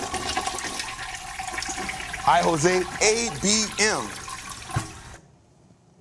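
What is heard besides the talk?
toilet flushing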